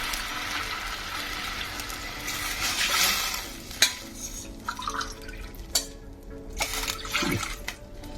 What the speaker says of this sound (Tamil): இப்போ 1 டம்ளர் ரவை எடுத்துட்டோம்னாக்க அதுக்கு 3 டம்ளர் தண்ணி ஊற்றலாம்.